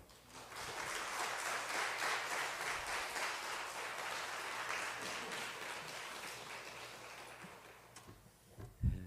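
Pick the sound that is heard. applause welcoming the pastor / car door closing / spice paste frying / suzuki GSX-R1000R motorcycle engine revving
applause welcoming the pastor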